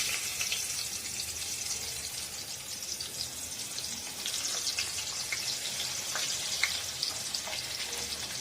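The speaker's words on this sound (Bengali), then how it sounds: "তো বন্ধুরা, আলু ভাজা চলছে" Potatoes frying in hot oil make a continuous soft sizzle with scattered light crackles and pops, steady and close, no voices over it.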